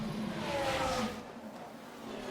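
F1 cars overtaking in the F1 Manager 24 game at Abu Dhabi, a loud continuous engine roar with a rising whine that fades slightly as the cars pass.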